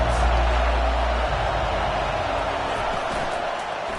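Stadium crowd roar in a Madden or NCAA college football video game, a loud steady wash of noise from the stands that continues without pause and eases off slightly near the end.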